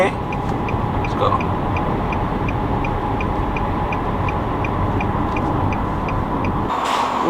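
A car engine fitted with a Top Speed Pro intake idles steadily, a constant, fairly loud rumble with a faint regular ticking pulse layered over it, cutting briefly near the end.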